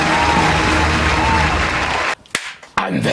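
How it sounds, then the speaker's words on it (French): Cinema audience breaking into loud, dense applause with scattered cheers and whoops, sustained for about two seconds before cutting off abruptly, followed by a couple of brief sharp bursts. "Merci à tous, applaudissez-vous."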